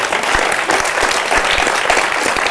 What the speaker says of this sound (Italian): Se mi fate un applauso